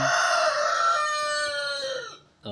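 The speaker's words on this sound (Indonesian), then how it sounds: "ada suara kokok ayam" A rooster crows loud and close in one long drawn-out call that holds steady before trailing off, heard alone with no talking over it.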